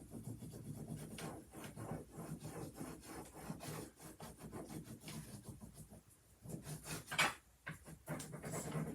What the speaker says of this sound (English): you just keep rubbing and applying pressure